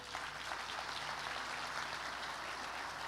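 A church congregation claps, a soft, steady wash of hands at a distance with no break and no voice on top.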